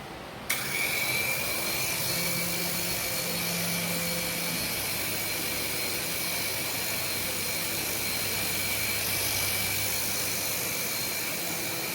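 A small mini toy helicopter whirs steadily at high pitch after a sudden takeoff indoors, a constant buzzing drone close to the listener with no talking.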